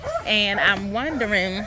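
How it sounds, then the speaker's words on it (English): A dog barks and yips in a garden in autumn, its bark mixed in with a person talking close by. "Excuse the dog."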